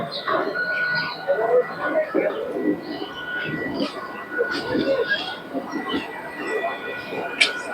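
Rumbling of a Kolkata Chakra Rail local train in motion on the Dum Dum to Princep Ghat line, with rattling and a faint tonal whine, continuing steadily beneath people talking nearby.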